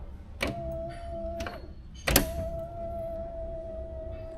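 Soft-close trunk lid on a 1984 Cadillac Seville, a quiet thump followed by a short motorized whir that stops, then a second louder thud and a longer steady hum close by.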